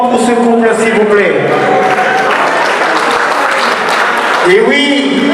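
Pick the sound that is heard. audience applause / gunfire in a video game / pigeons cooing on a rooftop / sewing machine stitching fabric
audience applause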